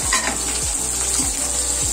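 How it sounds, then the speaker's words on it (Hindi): Green chillies and onion fry in a pan with a bright, constant sizzle, plus a few low scraping stirs at regular intervals, close up and without speech. "अब हमें इसमें सबसे पहले हरी मिर्च और प्याज ऐड करना है"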